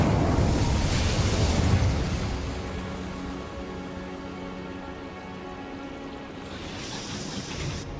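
An Incendio fire spell cast in Hogwarts Legacy, a loud crackling whoosh of flame that bursts at the start and then settles into a dense, hissing, rain-like crackle that fades slightly before swelling again.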